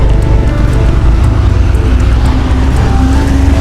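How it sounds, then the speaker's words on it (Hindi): Steady, loud traffic rumble on a city road at night, with vehicles rolling past close by in a continuous low roar and faint higher hiss, and no voices. "आवाज सुनकर आप महसूस कर सकते हैं कि रोड कितना समतल है और गाड़ियां कितने शांति से गुजर रही हैं।"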